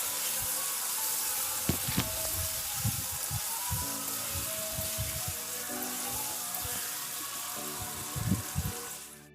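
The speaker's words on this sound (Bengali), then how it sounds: "সমস্ত চিকেন দেওয়া হয়ে গেলে তোমরা এবার ভালো করে কষাতে থাকো।" Chicken pieces and potatoes frying and being stirred in a pan with green papaya for a Bengali curry, giving a steady close sizzle with scattered clatter and scraping from stirring, and no talking.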